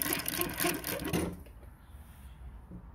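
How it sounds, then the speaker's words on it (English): A New-Tech AE-1-2 blanket edge sewing machine stitches fabric with a loud, fast mechanical whirr for just over a second, then stops, leaving a quiet low hum of room noise. "the fabric goes underneath and starts sewing"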